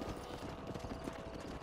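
Horses' hooves clip-clop in the Red Dead Redemption video game, a busy, continuous patter of several animals moving together at a steady pace, fairly close and even in loudness.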